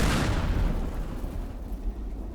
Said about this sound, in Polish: Atomówka zadziałała. Jest jaki to wybuch robi.